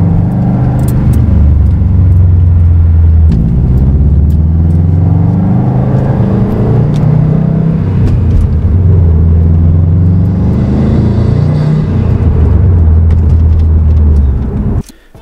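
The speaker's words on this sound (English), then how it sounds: "so the exhaust sounds amazing. The rumble, everything from the tone of it, it just sounds great." A deep, throaty Invidia R400 aftermarket exhaust on a 2017 Subaru WRX STI rumbles loudly inside the cabin, the low engine drone rising and falling with throttle throughout before cutting off at the end.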